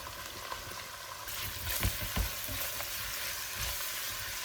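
Onions frying for a Kerala-style duck roast give a steady close sizzle with light stirring scrapes and a few louder crackles.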